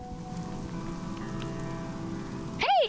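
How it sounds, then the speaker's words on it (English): Steady rain hisses and patters continuously in the video game Child of Light, a soft even wash of falling drops, cut near the end by a brief rising-falling tonal game sound. "Why is it raining?"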